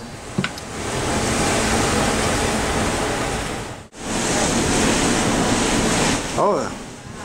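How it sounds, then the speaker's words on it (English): Water ballast being released from a boat at sea, a loud continuous rushing gush with a brief break midway and a short voice near the end. "This is not a leak, it is a water ballast release."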